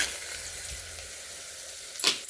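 Garlic frying in a pan, a steady close sizzle with a short brighter hiss near the end and no talking.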